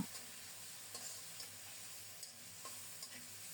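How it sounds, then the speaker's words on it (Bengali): Turmeric, chili powder and chili paste with a little water being stir-fried in a pan, a quiet steady sizzle broken by occasional light spatula taps and scrapes, with no talking. "এবার মশলাগুলোকে মনের মতো করে কষিয়ে নেব"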